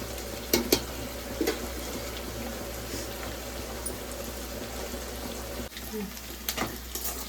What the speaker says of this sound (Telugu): రొయ్యలు ఫ్రై అవుతున్నాయి ఇంకొంచెం ఫ్రై అవ్వాలి